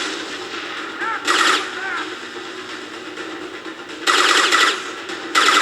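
Gunfire from the video game Mass Effect 2 cracks out in short, loud bursts separated by quieter game ambience, with someone talking faintly between the shots.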